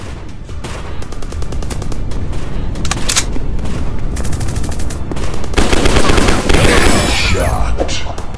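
Rapid automatic gunfire from the mobile first-person shooter Counter Terrorism, loud and continuous with dense bursts and sharper blasts toward the end, filling the whole stretch without pause.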